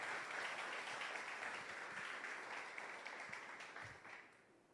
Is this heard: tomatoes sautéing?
no